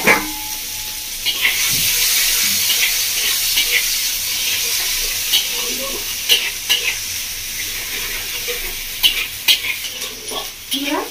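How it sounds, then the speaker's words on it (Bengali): Onion and tomato fry in fish oil for a home-style fish curry with bhindi and potato, sizzling steadily up close while a utensil stirs and scrapes in repeated clattering bursts. "পেঁয়াজ টমেটো 2 মিনিট মতো ভেজে নিয়েছি"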